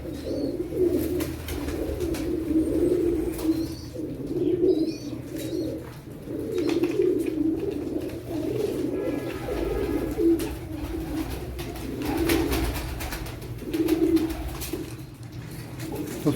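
Pigeons coo close by in a loft, low throaty cooing calls repeating in rhythmic bursts every second or two over a soft background hum, with an occasional faint chirp.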